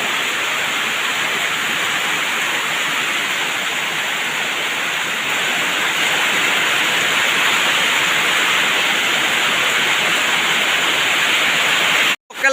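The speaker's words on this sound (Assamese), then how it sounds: "মাই গড কি বৰষুণ দিছে" A constant hiss of heavy monsoon-style rain in Assam fills the scene, loud and even, ending with a sudden brief cut and clatter.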